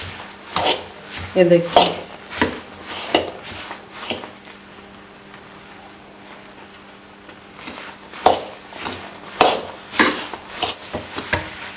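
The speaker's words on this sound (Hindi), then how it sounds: "और अच्छी तरह इसको अब मिक्स करना है।" Sooji panjiri stirred in a pan, the spoon scraping and clinking against the metal in irregular close strokes that pause briefly midway, while someone speaks a few words.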